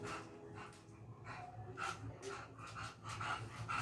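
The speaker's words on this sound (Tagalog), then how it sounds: "Yan po ang aking alagang aso, nagagalit na sa akin dahil siya rin aking kinukulit." A pet dog fusses close by, with quick panting breaths and small whimpering yips scattered through a quiet, short moment.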